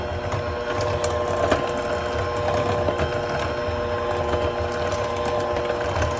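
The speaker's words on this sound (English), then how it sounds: "And then I need to grab a hand mixer. Mix it very nicely." An electric hand mixer whirs steadily up close as it beats butter and milk together for matcha cupcake batter, a continuous buzzing motor hum with no talk.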